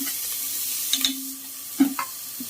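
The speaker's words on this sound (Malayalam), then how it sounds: "അതിൻ്റെ പച്ച മണം മാറുന്ന വരെ അതൊന്ന് വാട്ടിക്കൊടുക്കുക" Crushed ginger, garlic and green chili sautéing in a hot pan for a vegetable rice, a soft steady sizzle with a few brief stirring scrapes, close and alone without talk.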